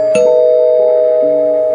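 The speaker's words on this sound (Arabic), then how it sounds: "وبعدها بشوية حد رن الجرس تاني" A doorbell chimes once, near and loud, with a sustained ringing tone that lingers in a quiet room, a soft second chime tone following.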